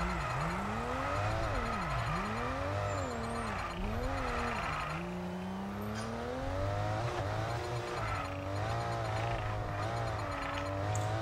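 F1 22 racing game Formula 1 car at Jeddah pushed hard: a loud, near engine whines up and down through repeated gear changes and braking dips, with faint tire squeal, sustained throughout with no talk.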